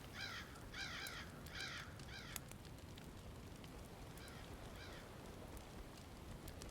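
A crow in a video game (The Not-Deer Stew) caws in quick bursts of harsh calls, a few at the start and more later, over a constant low background rumble.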